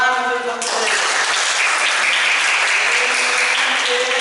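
Classroom audience applause at a teacher-training session bursts in after a brief tone and holds as dense, loud, steady clapping.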